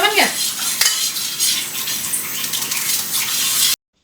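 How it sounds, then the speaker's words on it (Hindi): Garlic tadka frying and being stirred in a pan in a home kitchen, with a sharp initial sizzle and spoon scraping against the metal, followed by steady crackling hiss throughout, close and fairly loud. "फिर मैंने यहाँ पे लहसुन का तड़का लगाया है"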